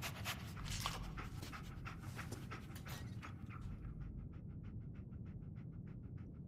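Dogmeat, the German Shepherd companion in the video game Fallout 4, pants rapidly and steadily up close, with a busy rushing sound underneath that fades partway through.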